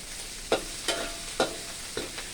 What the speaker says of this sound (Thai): ผัดพริกแกงให้หอม แล้วใส่มะเขือเทศ